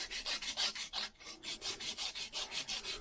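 Coarse abrasive scrubs back and forth over a rusty driveshaft from an Austin Allegro, a rapid, regular rasping rhythm of close strokes with a brief pause in the middle.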